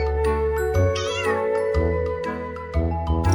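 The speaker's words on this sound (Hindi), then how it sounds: "जरा इसकी आवाज सुनो, ये कितने प्यार से म्याऊं कर रही है" Cat meowing affectionately in a series of soft drawn-out mews over light background music, close and clear, with a tinkling accent.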